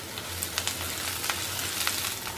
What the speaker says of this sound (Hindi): धीमी आंच पे 2 मिनट के लिए इसे सौते किया है।